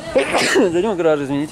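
A single sharp sneeze from a person standing close by inside a house, loud and abrupt, with someone speaking in Russian right around it.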